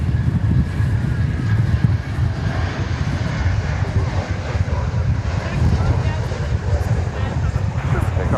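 Boeing 737-800 airliner at DFW Airport, a steady loud jet roar rumbling through the low range for the whole stretch with wind buffeting and a voice talking over it.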